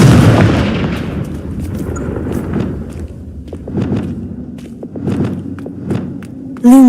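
The Confringo fire spell in Hogwarts Legacy is cast with a heavy booming blast that rumbles and fades, followed by scattered thuds and impacts, then a short bright tonal chime at the end.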